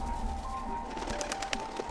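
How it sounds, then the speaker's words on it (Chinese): Pigeons coo softly in a few short, rounded calls over a steady background hum, faint and somewhat distant, with no voices. "人怎么能追上鸽子呢？"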